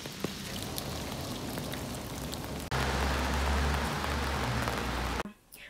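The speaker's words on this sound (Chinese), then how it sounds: "今天竟然下雨了，就平时下雨可以不用打伞，结果今天必须打伞" Rain patters steadily around someone holding an umbrella outdoors, then a louder, closer drumming with a low rumble takes over midway before the sound cuts off abruptly near the end.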